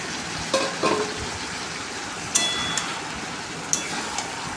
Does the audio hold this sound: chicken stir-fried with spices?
yes